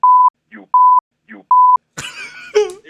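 A series of three sharp electronic censor beeps, evenly spaced, bleeps out spoken words between them, followed by a voice talking and a throat sound.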